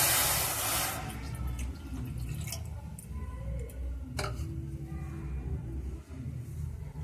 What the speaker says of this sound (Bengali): এখানে আমি আড়াইশো গ্রামের মেজারিং কাপের আড়াইশো গ্রাম জল দিয়ে দিলাম